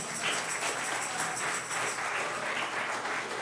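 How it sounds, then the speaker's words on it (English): A church congregation at Mount Horeb claps for its youth during a Black History program. The steady, even patter of many hands is fairly soft and distant, continuous and without voices. "a big round of applause"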